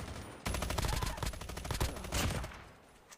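Dense automatic gunfire from a Call of Duty match rattles in fast, loud bursts that start abruptly, hold for a couple of seconds with a short lull, then fade out.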